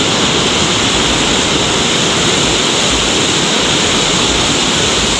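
Strong, steady rushing of the swollen Batang Anai river current, a continuous broadband roar of fast water close by, with no voices over it.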